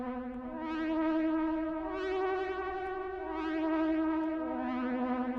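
A Teenage Engineering OP-Z synthesizer plays sustained harmonic tones with slow pitch glides, trailed by repeating echoes and a wide reverberant wash.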